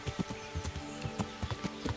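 Horse hooves clip-clopping along a woodland trail in a video game, a quick irregular run of soft thuds at moderate volume, alone.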